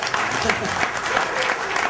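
Steady applause from a crowd, dense clapping filling the room at even loudness throughout.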